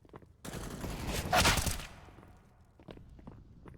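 Sustained burst of AK-47 fire in a Counter-Strike match, a dense rattling volley that peaks briefly and then drops away into scattered footsteps and small clicks, loud and close.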